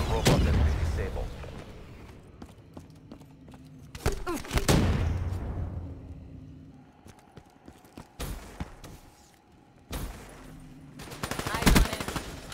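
Black Ops 3 Citadel DLC artillery strikes hit in loud, booming bursts, mixed with rapid gunfire and sharp impacts, as a radio-style voice calls out orders between the blasts.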